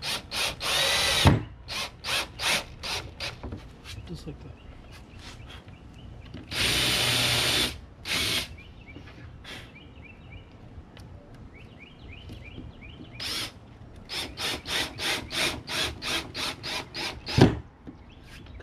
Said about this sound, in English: I just kind of ream the hole a little bit. Countersink, I should say.